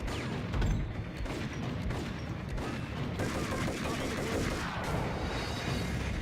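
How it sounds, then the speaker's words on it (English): Steady exchange of gunshots in the Max Payne shooter game, a continuous crackle of overlapping shots held at a fairly even moderate level, with a brief heavier burst near the start. "Okay, who else is shooting at me?"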